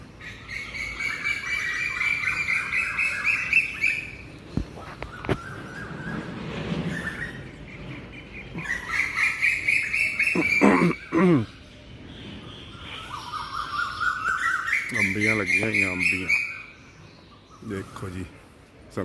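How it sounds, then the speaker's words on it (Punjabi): Birds chirp and trill in repeated bursts, some warbling phrases loud and close, with quieter gaps between them and faint outdoor background. "ਪੰਛੀਆਂ ਦੀ ਆਵਾਜ਼ ਕਿੰਨੀ ਵਧੀਆ ਯਾਰ ਆ ਰਹੀ ਹੈ ਬਹੁਤ ਵਧੀਆ ਆਵਾਜ਼ ਆ ਰਹੀ ਪੰਛੀਆਂ ਦੀ"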